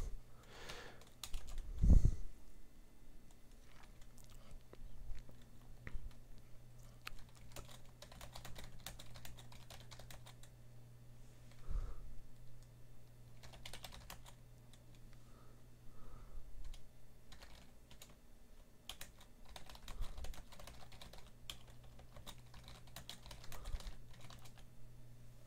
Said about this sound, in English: I'm typing to Miro.